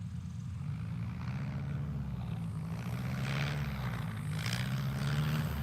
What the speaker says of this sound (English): Here's Austin now goosing the throttle